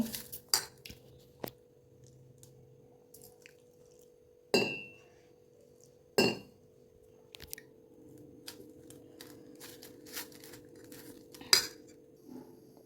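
A spoon clinking against a bowl while stirring an oats mixture seasoned with salt: scattered light metallic taps, with a few sharper, louder strikes standing out, close and quiet, with no talking.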